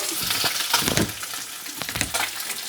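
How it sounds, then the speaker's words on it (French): Salmon frying in a pan for a salmon ravioli gratin gives a steady close crackling sizzle with occasional louder spits and stirring scrapes, no voices. "Le saumon est en train de cuire"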